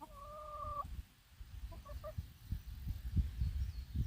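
Hens inside a rectangular chicken tractor cluck and croon softly, a drawn-out call then short clucks, with low rustling and scratching sounds nearby.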